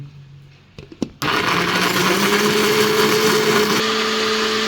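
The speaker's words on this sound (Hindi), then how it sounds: "इसको ग्राइंड करेंगे।" A few soft knocks, then an electric grinder grinding garlic switches on with a loud, steady high-pitched whir that runs nonstop to the end.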